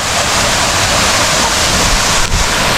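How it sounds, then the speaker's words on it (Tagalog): Towing Falls, a waterfall that drops in three tiers, roars with a loud, steady rush of falling water that stays constant throughout, with no voices. "Parang triple falls pala to."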